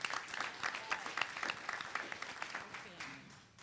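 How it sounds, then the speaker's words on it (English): An audience gives a round of applause at a panel event, a short burst of scattered clapping heard at low level and somewhat distant, tapering off by the end. "A round of applause."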